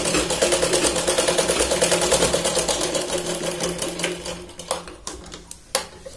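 A sewing machine stitches a Katori blouse in a fast, steady mechanical rattle that runs for several seconds, then slows into a few separate clunks and stops, close up with no talking.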